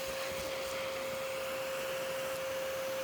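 A vacuum runs steadily up close, sucking yellow jackets out of the entrance of a ground nest, a continuous broadband whoosh with a sharp whine held throughout, no voices.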